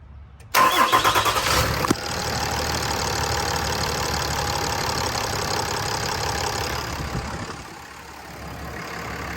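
A Ram pickup's Cummins 6.7 diesel cranks and fires up with a sharp start, then settles into a steady, loud, close idle that eases off near the end.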